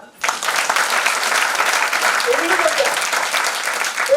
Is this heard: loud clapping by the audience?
yes